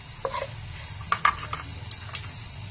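Dried red chillies fry with chana dal and urad dal in a pan for bitter gourd curry, with a soft sizzle under a few close metal stirring clinks and scrapes.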